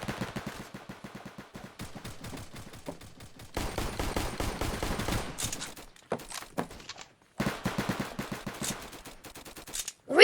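Rapid pistol fire in the shooter game Flag Wars crackles in quick bursts of close, sharp shots, broken by brief pauses, with a final loud report at the end.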